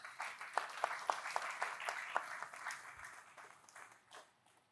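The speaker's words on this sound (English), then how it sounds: "I think that deserves a round of applause, guys." A round of applause from a tech conference audience: moderately distant clapping with some crisp individual claps that builds quickly, holds, then thins out toward the end.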